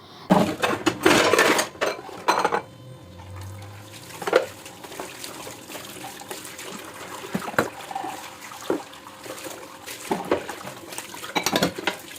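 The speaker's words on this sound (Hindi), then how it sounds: "तो फिर मैंने कहा पहले अब धोते हैं बर्तन, जो ये सहरी वाले बने हुए थे" Dishes, pots and cutlery being washed in a kitchen sink after a pre-dawn Ramadan meal, with running tap water, clinks and clatter of utensils in bursts, close and fairly loud, no talking.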